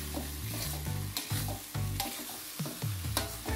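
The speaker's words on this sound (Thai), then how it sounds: "ผัดใบโหระพาของเราให้โดนความร้อนให้หมดนะครับ" Thai basil leaves stir-fried with canned fish in a hot pan, a steady close sizzle broken by repeated scraping stirs of the spatula in a loose rhythm, with no talking.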